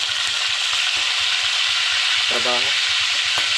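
Oil sizzles and crackles steadily as tulingan (bullet tuna) fries, a constant hiss with a brief spoken word partway through.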